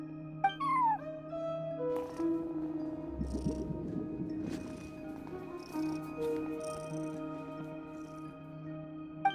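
A cat at a front desk in the video game Genshin Impact gives a short meow, heard over steady ambient game music and tones, with faint chimes drifting through the scene.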